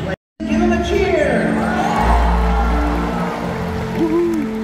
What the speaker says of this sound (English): Give them a cheer!